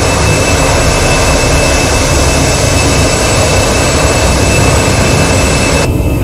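An Airbus A319 in the Prepar3D flight simulator roars at takeoff thrust, a loud, steady, broadband jet engine rush with a thin high whine, unbroken throughout.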